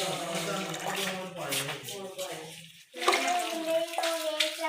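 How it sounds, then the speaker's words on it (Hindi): A glass of water poured onto half a kilo of sugar for syrup: a close gurgling pour that pauses briefly, then resumes with splashing, under a faint voice. "तो 1 गिलास हमने पानी का डालेंगे।"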